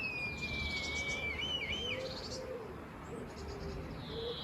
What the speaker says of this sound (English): A crow or a blackbird has decided to perch on a branch directly opposite, or is it a magpie?